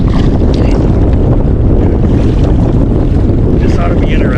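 Heavy wind buffets the microphone aboard a small boat on Willow Lake in Johnstown, Nebraska, a loud continuous roar and rumble with water sloshing beneath; faint speech is buried in the noise.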